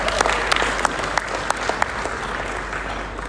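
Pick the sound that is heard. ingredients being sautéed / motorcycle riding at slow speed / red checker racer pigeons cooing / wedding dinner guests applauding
wedding dinner guests applauding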